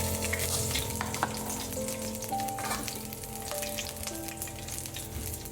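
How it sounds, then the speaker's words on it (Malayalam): Green chillies added to whole spices frying in a pan for a chicken stew, a steady close sizzle and crackle with faint stirring, continuous throughout and with no talking. "ഇനി നമുക്കിതിലേക്ക് 2 പച്ചമുളക് ആഡ് ചെയ്ത് കൊടുക്കാം."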